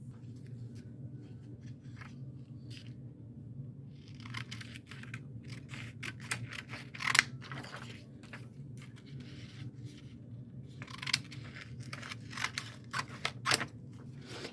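Scissors cutting out a silk screen stencil make close, irregular snips and rustling cuts over a low steady hum, quiet and intermittent throughout.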